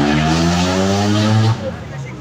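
A motorcycle engine revs loud and close with a steady rising drone, then cuts off abruptly, leaving a lower rumble and background noise.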